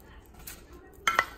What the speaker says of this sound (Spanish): todo junto porque lo voy a revolver